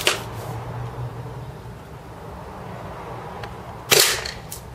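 A TSD L96 (SD96B) bolt-action airsoft sniper rifle fires through a chronograph: two sharp, close cracks about four seconds apart, with quiet room noise between them.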